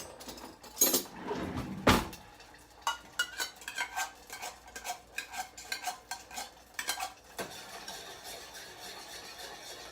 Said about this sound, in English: just use a spoon to scoop it on right out